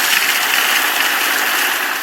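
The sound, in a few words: water running through pico-hydro system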